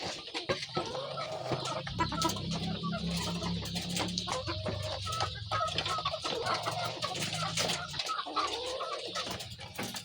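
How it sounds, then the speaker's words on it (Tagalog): Laying hens in cages cluck and squawk in a busy, continuous chorus, with occasional louder individual calls standing out against the steady farmyard clamor. "Oras naman para tayo mag-harvest ng ating mga paitloging manok"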